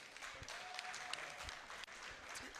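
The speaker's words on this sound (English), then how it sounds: "Please, let's give Bayo a round of applause." Audience applause at a photo festival event in Abuja, a full, continuous round of clapping from a crowd that stays even throughout with a few sharper claps standing out.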